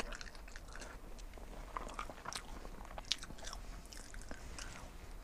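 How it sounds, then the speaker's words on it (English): Pizza being munched in a compact van kitchen, with steady close crunching and chewing bites that continue throughout, a few sharper crunches standing out, and no talking. "Can you hear me munching?"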